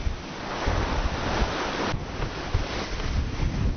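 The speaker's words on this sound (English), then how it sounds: "Then the waves got bigger and it was pretty choppy" Choppy sea waves and strong wind buffet a sailing boat in the English Channel, with a steady loud wash of surf and gusty wind roar filling the whole stretch without a break.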